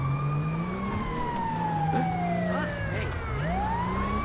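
An ambulance siren inside the game GTA 5 with the LSPDFR mod, wailing steadily up and down over a low engine rumble, loud and close, with some speech mixed in.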